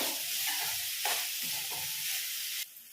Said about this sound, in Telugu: ఈ చిక్కుడుకాయలు ఇలాగే మిడిల్ ఫ్లేమ్ మీద కానీ లేదంటే సిమ్ మీద కానీ పెట్టి ఇట్లా కలుపుకుంటూ ఉడికించుకోవాలి